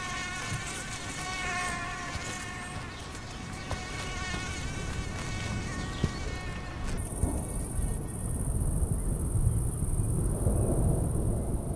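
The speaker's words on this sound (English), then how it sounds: "For most other animals, however, the swarms of mosquitoes are extremely annoying." Dense swarm of mosquitoes in the wild, a steady close whining buzz of many insects that shifts halfway through to a higher, thinner drone over a low rumbling background, with no talking.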